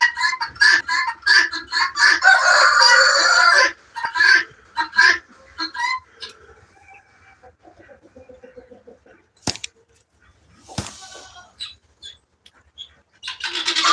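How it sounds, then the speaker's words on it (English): A guinea fowl calls in a farmyard with harsh, rapid repeated cackling bursts, loud at first, then scattered sharper calls with quiet gaps between. "That is a guinea fowl."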